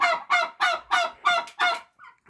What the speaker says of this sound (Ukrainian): Там рижий, який мені подобається, індик.